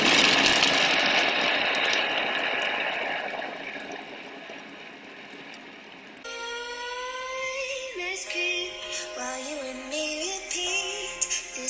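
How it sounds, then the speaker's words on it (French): A food processor whirs loudly at speed 6, mixing olive-parmesan puff pastry dough for several seconds in a steady grinding rush that fades, then stops and gives way to a quieter tonal sound. "je vais mixer 8 secondes, suffiront amplement, et à la même vitesse, à savoir la vitesse 6"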